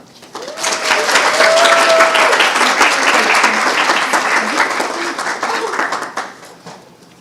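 An audience at a school speech contest breaks into sustained applause for a participant, dense and even for several seconds before thinning out, with a voice speaking over the clapping.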